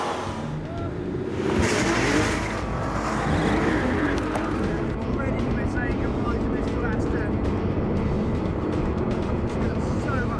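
An Aston Martin V12 Vantage and a Porsche 911 GT2 race each other, their engines roaring loudly and swelling around the two-second mark before holding a strong, continuous drone.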